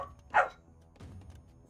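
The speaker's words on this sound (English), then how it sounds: "I have a corgi barking at me." A single sharp bark from a corgi rings out near and loud, followed by a quieter low rumble.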